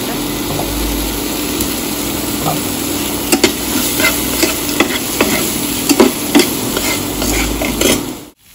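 Tomato masala cooking in a pan, with a steady sizzle and repeated scraping strokes of a spoon as it is stirred, loud and close, ending abruptly.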